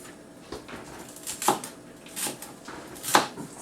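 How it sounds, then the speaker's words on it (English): A knife chops food into slices on a board: about five crisp, sharp cuts at an uneven pace, close and fairly loud, with quiet pauses between them. "So we'll continue to chop them all up."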